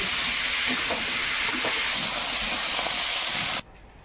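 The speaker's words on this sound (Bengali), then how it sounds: "কুমড়ো আর আলু একসঙ্গে ভেজে ওটা একটু নাড়াচাড়া করে ভেজে নিয়েছি এবারে অল্প কয়েকটা পুঁই ডাটা এর মধ্যে দেবো একেবারে ভেজে নিচ্ছি" Pumpkin, potato and pui stalks fry in a pan with a loud, continuous hissing sizzle and faint stirring knocks, until the sound cuts off abruptly near the end.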